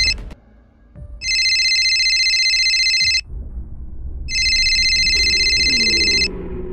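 A telephone rings loudly and close by in two long electronic ringing bursts separated by a short pause, with faint background movement between the rings.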